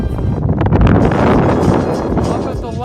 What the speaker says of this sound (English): it's very windy, but it's so beautiful.